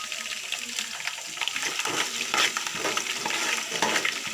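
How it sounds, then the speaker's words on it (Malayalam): Mustard seeds pop and crackle in hot sesame oil for a bilimbi pickle, a quiet stream of scattered sizzling snaps with some stirring. "നല്ലെണ്ണ ചൂടായി വരുമ്പോൾ അതിലേക്ക് കടുകിട്ട് നന്നായി പൊട്ടിച്ചെടുക്കാം."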